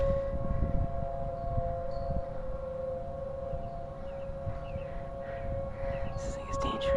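Outdoor civil defense sirens sound a steady, sustained wail during a severe thunderstorm warning in Omaha, carried over strong wind gusts, with brief bits of a voice near the end.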